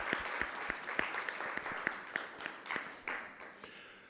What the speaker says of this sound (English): a massive round of applause once again